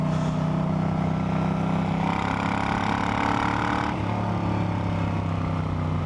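Moto Guzzi V9 Bobber motorcycle engine while riding, a steady, loud, low throbbing drone with a slight rise in pitch partway through as it pulls along, heard close with constant wind noise.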